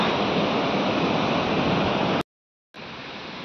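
Heavy, continuous roar of a forest waterfall fills the air, loud and steady, cutting out briefly to silence before resuming just as dense.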